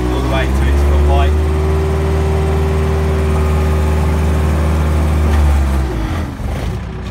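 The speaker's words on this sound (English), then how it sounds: "And then you want to take the boom all the way to its full height." Manitou telehandler engine running steadily with a hydraulic whine as the boom is raised to full height, heard close up, then settling lower near the end.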